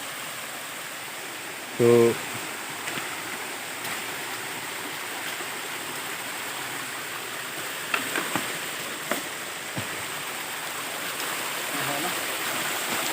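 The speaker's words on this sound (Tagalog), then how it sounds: "Tingnan mo oh, yung buhos dumikit sa bato." Water pours steadily onto rock outdoors, a continuous rushing stream sound with a few faint knocks, and a person briefly speaks over it.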